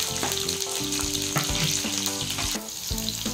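Green chillies and garlic frying in hot oil in a kadai, a loud, dense, crackling sizzle that runs unbroken from start to finish, with occasional stirring knocks and no speech.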